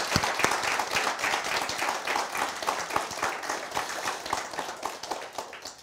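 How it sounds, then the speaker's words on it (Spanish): Audience applause for graduating master's students in senior management at a ceremony: dense, steady clapping from a crowd throughout, fairly close and loud, with no talking. "Un aplauso para ellos, ¿eh?"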